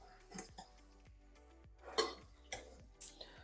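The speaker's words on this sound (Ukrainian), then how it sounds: "Усе заправляю оливковою олійкою і перемішую." Spoon or utensil knocks and clinks against a bowl while a Greek salad dressed with olive oil is tossed, giving a few sharp, close taps and scrapes in an otherwise quiet kitchen.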